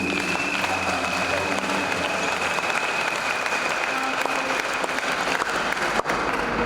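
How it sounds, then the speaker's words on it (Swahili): Church congregation at a Christian student fellowship gathering clapping loudly for Jesus, dense sustained applause from a large crowd filling the room throughout. "Tumpigie Yesu makofi ya juu."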